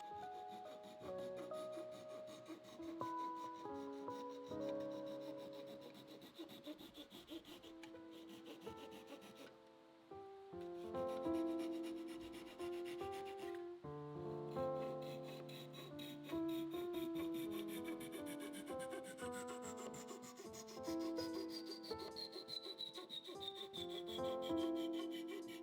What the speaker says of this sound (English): It works nicely, it just needs a little sanding to make it completely flush.